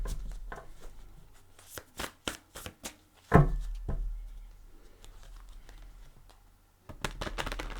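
A deck of tarot cards is shuffled close by in a quiet room: a run of short crisp taps and flicks, then a sharper riffling burst, with soft card handling afterward.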